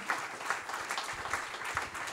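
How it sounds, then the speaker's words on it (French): Audience at an agri-food awards ceremony in Gers applauding a prize winner, a soft, fairly distant sustained wash of clapping with light pulses, no speech over it. "Quelques applaudissements s'il vous plaît"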